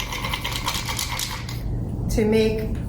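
A wooden whisk spun and rubbed between the palms to froth Mexican hot chocolate, giving a steady close clatter and rattle of wood against the pot that swells louder near the end.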